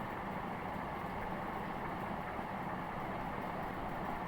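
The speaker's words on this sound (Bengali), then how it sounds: "বাংলাদেশ সচিবালয়ের সঙ্গে একটি গুরুত্বপূর্ণ মেট্রো রেল স্টেশন" A metro rail train at Bangladesh Secretariat station in Dhaka, heard as a steady, dense rumbling roar with no distinct breaks, moderately quiet and with no talking.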